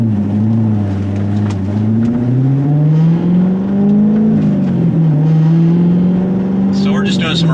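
Corvette C7 with an MRT QuadFlow axle-back exhaust accelerates at low around-town revs, giving a deep droning exhaust note that rises and settles, heard from inside with a voice talking over it.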